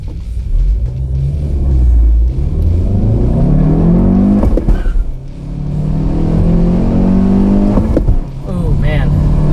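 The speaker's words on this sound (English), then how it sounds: "Going stage left this time at just a little bit of a staging burnout there." A 2017 Honda Civic Hatchback Sport makes a staging burnout before a drag-strip launch, its engine revving and droning loudly with rising and falling pitch sweeps and a brief dip midway, while someone talks over it.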